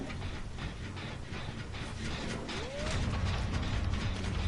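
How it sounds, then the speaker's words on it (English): A wrench ratchets steadily as a generator is repaired in Dead by Daylight, with a continuous rhythmic clicking over a dense mechanical rumble and no voices. "You can hear the wrench turning."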